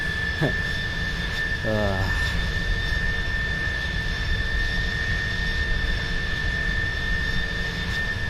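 Jet airliner thrust reversers roar in a steady, dense rush after landing in Microsoft Flight Simulator, an iniBuilds American Airlines A310 at JFK, with a constant high whine on top and a brief sweeping tone early on.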